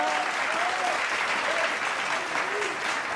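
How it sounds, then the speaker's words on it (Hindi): An audience at a Hindi comic poetry gathering breaks into sustained applause for a poet, a dense, even roar of clapping with faint voices mixed under it. "और ताली तो अब मांगता हूं,"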